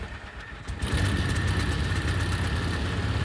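The engine of a Max II 6x6 ATV cranks briefly and fires, then settles into a loud, steady, rumbling idle close by.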